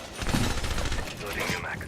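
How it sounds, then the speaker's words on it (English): A weapon magazine being reloaded in Rainbow Six Siege, a dense burst of metallic clicks and ratcheting clacks over about two seconds, fairly loud and steady against busy game background noise. "Loading your mag."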